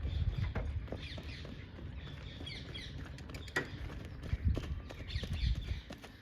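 Faint, scattered clip-clop of a mare's hooves on the ground, soft and irregular against a quiet background.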